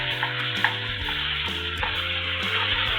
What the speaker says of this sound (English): mix that fennel seed up with it